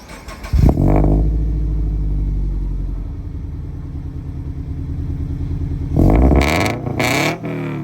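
A Toyota 86 engine revs hard through a TRD cutback exhaust with a cutless front pipe and headers. It gives a sharp blip, then a loud, throaty idle with a droning rumble, then more quick revs near the end.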